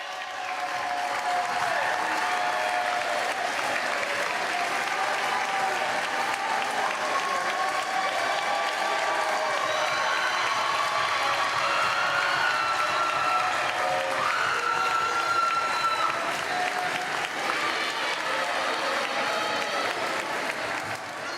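A crowd at a high school volleyball game between Chillicothe Cavaliers and Unioto Shermans bursts into sustained applause with cheering, a dense steady roar of clapping filling the gym for about twenty seconds.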